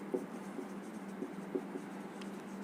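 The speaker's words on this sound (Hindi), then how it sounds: "सो मैं लिखता हूं" Chalk or marker writing on a board in a physics lecture gives soft, faint scratching strokes in short irregular bursts, close and quiet, with no voice.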